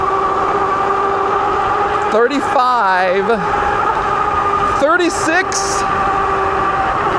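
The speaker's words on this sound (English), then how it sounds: "because these are big old knobby tires, 26 by 4-inch tires, you're gonna hear the noise" An e-bike, a Puckipuppy Boxer ST, rolls on knobby 26 by 4-inch fat tires, giving a steady, loud droning hum throughout while a rider's voice counts over it in two short bursts.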